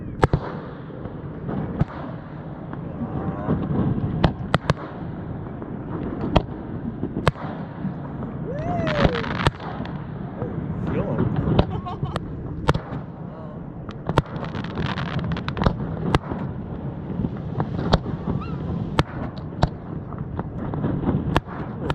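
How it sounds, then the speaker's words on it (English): Fireworks bang and crackle steadily over a harbor, heard from a boat on open water, sharp pops echoing from a distance, with wind buffeting the microphone and a voice briefly audible. "watched the fireworks from out in the ocean"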